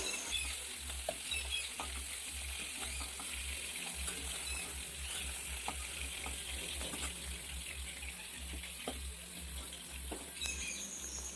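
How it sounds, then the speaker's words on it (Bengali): Pieces of pangasius fish fry in oil with a soft, steady sizzle that runs continuously at low volume, with faint clicks of a utensil now and then. "আবারও আমি বাকি মাছটা ভেজে নিচ্ছি"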